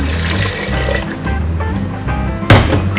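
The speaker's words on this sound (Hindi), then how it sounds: "ये 500 ml हमने पानी डाला, 2 ग्लास।" Water poured from a glass into a cooking pot while making hareesa, a steady close splashing pour that continues for about three seconds with a brief louder splash near the end.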